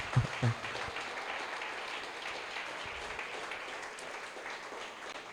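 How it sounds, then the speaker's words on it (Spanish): A church congregation applauds steadily, a broad wash of clapping that fills the room from start to finish, moderately loud. "denle un fuerte aplauso al Señor"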